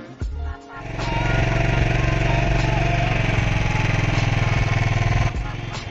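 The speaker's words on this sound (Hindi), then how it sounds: "निकलने से पहले बाइक को किया जाए थोड़ा गर्म।" A motorcycle engine warms up before a ride on a mountain route in Uttarakhand: it catches after a brief start, then settles into a loud, steady, close idle with a throbbing pulse for about five seconds before dropping back.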